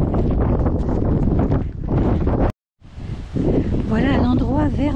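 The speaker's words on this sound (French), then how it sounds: "il y a beaucoup de vent" Strong, gusty wind on a hiking trail in Lanzarote buffets the microphone in loud rumbling bursts, breaking off briefly before someone speaks over the continuing gusts.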